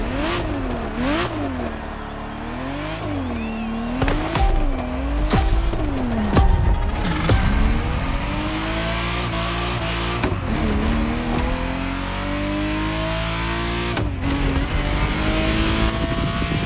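Ferrari Testarossa engine in The Crew Motorfest racing game, revving up and down in repeated waves, then climbing through the gears with tire squeal, loud and close with no talking.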